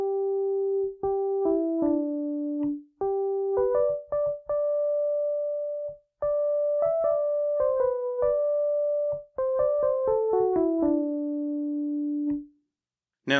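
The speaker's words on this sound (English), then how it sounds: "The last main theme in this first movement is introduced by a solo flute" Solo flute playing the last main theme of the first movement of Dvořák's New World Symphony: a gentle, clear melody in a few phrases with held notes and short pauses, heard alone.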